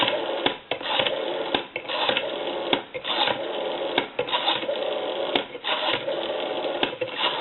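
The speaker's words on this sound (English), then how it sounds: "You'll notice the rotary is a lot more smooth than it was." Rapid clicking pulses from the rotary dial of a Western Electric 500 desk telephone as it spins back, in several bursts separated by short pauses, with a narrow, telephone-line sound.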